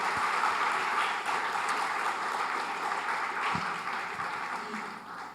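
Congregation inside a church applauds in welcome, a full, sustained patter of many hands that stays fairly loud and gradually thins and softens by the close.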